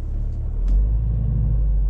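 A car pulling away and driving during a mock driving test, heard as a steady, close, low engine rumble that swells slightly and holds for a couple of seconds with no talking.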